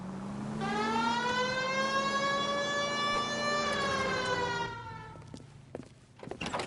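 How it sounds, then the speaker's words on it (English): Police car siren in the video game L.A. Noire, a loud rising wail that sustains steadily for several seconds, then drops away with a few thuds at the end. "Hit the siren."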